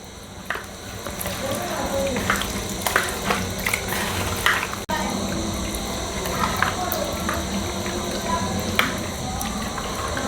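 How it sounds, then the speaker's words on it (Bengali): Marinated chicken with gondhoraj lemon zest and leaves being mixed by hand in a bowl, soft wet squishing and slapping at close range in an uneven rhythm, over a steady background hum. "এবার এটা ভালো করে মেখে নেব।"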